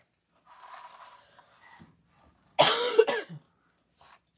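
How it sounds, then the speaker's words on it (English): A woman making a Mardi Gras storm door wreath from mesh coughs in a loud, harsh burst of two or three coughs, preceded by soft rustling of the materials at a quiet indoor workspace. "All this talking is making me cough too."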